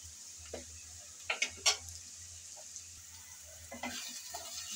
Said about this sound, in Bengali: সব একসাথে ভালোভাবে নেড়ে চেড়ে কষিয়ে নিতে হবে।